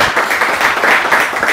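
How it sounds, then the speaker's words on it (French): A short, loud wash of audience applause fills the moment, dense clapping with no gaps and no speech over it. "Ça forcément, ça s'applaudit, mesdames, messieurs."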